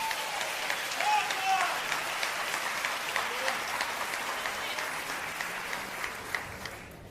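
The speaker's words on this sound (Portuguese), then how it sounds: "Se você concorda, pode aplaudir em nome de Jesus." A church congregation claps together in a large hall, a steady, even wash of applause that holds for several seconds and tapers slightly toward the end, heard at a moderate distance.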